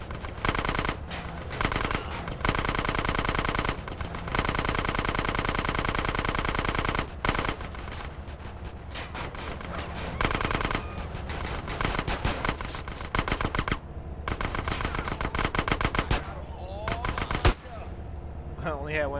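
Rapid bursts of automatic gunfire in GTA: San Andreas during a shootout over a train with Northside Vagos gang members, loud and nearly continuous with brief pauses between volleys, and a voice talking over parts of it.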